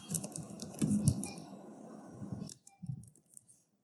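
A computer keyboard clatters with quick, soft typing of a short heading, a brief run of close clicks that stops abruptly, followed by a couple of faint taps.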